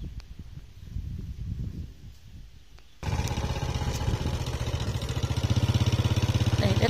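A motorcycle ridden along a concrete road past coffee and pepper farmland in Đắk Nông drones with a steady mid-pitched engine rumble; a quieter wind-buffeted stretch comes before the engine swells close and loud, with no talk.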